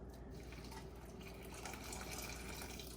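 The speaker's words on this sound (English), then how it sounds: "it's time to put 6 cups of water into our rice cooker" Water pouring steadily into a rice cooker already holding rice, six cups' worth, a continuous close splashing fill with no talk.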